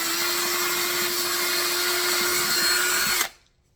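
Power drill boring a small pilot hole for screws into wood flooring in a farmhouse, a steady loud whine for about three seconds that stops abruptly, with no talking.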